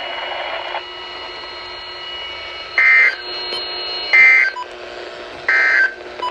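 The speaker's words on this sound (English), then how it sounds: "This concludes the weekly warning alarm test." A NOAA Weather Radio weekly warning alarm test sends out loud steady electronic tones, with three short sharp high bursts repeating about every one and a half seconds over a continuous broadcast hum.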